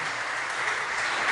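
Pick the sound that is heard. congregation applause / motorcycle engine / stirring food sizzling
congregation applause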